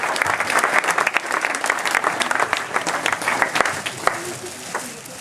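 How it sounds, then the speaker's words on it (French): Audience applause at a prize-giving ceremony, dense sustained clapping from a crowd filling the whole stretch with a few sharper claps standing out, close and loud throughout. "On l'applaudit. Bravo."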